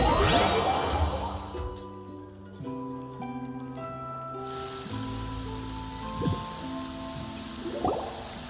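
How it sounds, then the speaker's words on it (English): Steady rain falls in the video game Genshin Impact, a soft wash of drops heard beneath layered sustained music tones, with a few brief sharp swells near the end. "It's been raining non-stop for a few days now."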